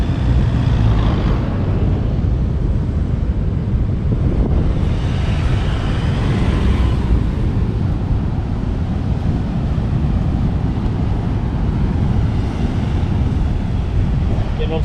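A 4x4 vehicle driving on sandy tracks on Stradbroke Island, with a steady loud engine rumble mixed with heavy wind buffeting on the microphone throughout.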